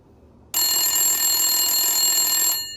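A telephone rings with one steady electronic tone that starts suddenly, holds loud and bright for about two seconds, then cuts off. No one speaks over it.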